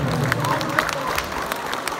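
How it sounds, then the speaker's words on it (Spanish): An audience at a civic ceremony claps for a municipal trustee, a brief patter of scattered hand claps mixed with crowd murmur. "a quien le brindamos un fuerte y caluroso aplauso"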